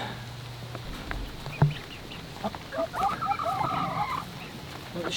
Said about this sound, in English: These chickens are annoying.